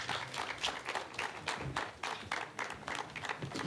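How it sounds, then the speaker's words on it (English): Sustained crowd applause with dense, continuous clapping that swells and dips slightly, loud and close, no voices standing out. "Let's give him a round of applause as he comes to stage."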